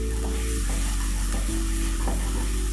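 Tomato paste sizzling in a pot with beef short ribs on a stovetop, a loud, steady frying hiss close by with occasional stirring scrapes, no talking.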